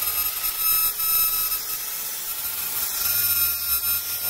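Sanding with 120 grit sandpaper on a rib boat tube during installation, a steady close rasping rub over a persistent high-pitched whine, with no talk.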